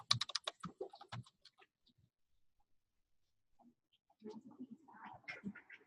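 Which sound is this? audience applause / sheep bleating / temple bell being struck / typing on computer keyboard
typing on computer keyboard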